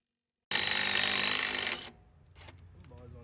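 A power tool loosens the fittings on a pressure washer pump that has been in use for about 3.5 years. It gives one loud, steady whirring burst of just over a second, then falls to quieter clattering handling noises.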